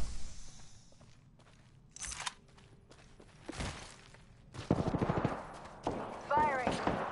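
Bursts of gunfire in the Apex Legends video game, sharp shots and short automatic volleys amid quieter gaps, with game voice callouts heard between the shots.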